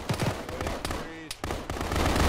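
Rapid automatic gunfire in an ArmA zombie fight, bursts of sharp close shots separated by short gaps, with voices talking in between.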